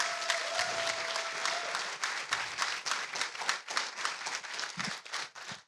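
An audience at a teach-in and panel discussion applauds a panel speaker, a dense, steady burst of many hands clapping that thins into scattered claps before fading out.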